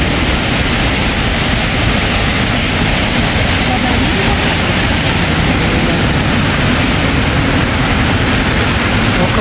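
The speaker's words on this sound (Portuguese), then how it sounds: "A cascata do Chuveirão." The Chuveirão waterfall, a cascade at a visitor site in Venâncio Aires, pours in a steady, loud, broadband roar from close by, unbroken for the whole stretch.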